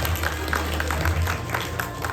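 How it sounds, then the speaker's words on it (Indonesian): A crowd at a sangjit engagement ceremony claps in a lively, continuous patter, moderately loud and close, over a low hum of the room. "tepuk tangannya kembali yang meriah boleh"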